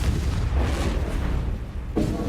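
A blasting-curse spell in Hogwarts Legacy combat erupts in short, deep booms with a sharp burst near the end, set against a steady low rumble of battle and no talking.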